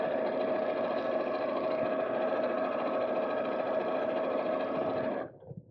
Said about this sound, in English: just going to sew with a straight stitch and around about a 1/4 inch seam allowance